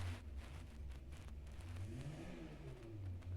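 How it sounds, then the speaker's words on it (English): A vehicle outside revs its engine, a faint, muffled, steady drone with slight rises in pitch, heard from a distance through walls with no talking. "vehicle outside stops revving his engines."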